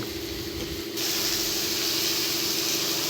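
Onions frying in oil with ginger garlic paste, a loud steady sizzle and hiss that swells brighter partway through and carries on alone without talk.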